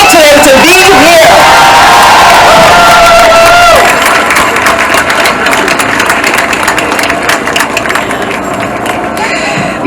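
An outdoor crowd at an abortion rights rally in Union Square, New York City, breaks into loud cheering, whoops and sustained clapping, starting over a fading voice and growing into a dense, continuous roar of applause.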